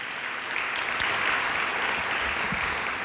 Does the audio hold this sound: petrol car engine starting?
no